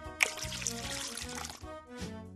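Orange juice poured from a measuring cup into a baking mixture, a soft steady liquid stream lasting about two seconds, fairly quiet and close, over a steady tonal background.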